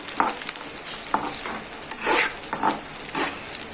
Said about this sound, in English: I am adding 15 to 20 cashew nuts to it. Mix it well and let it fry for 2 to 3 seconds